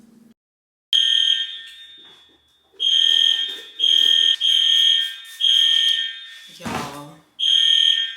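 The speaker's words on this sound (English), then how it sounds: "this alarm has literally been going off since 8 o'clock this morning" An electronic fire alarm beeps loudly indoors in long repeated shrill tones with short gaps, going off for hours, while someone talks briefly between the beeps.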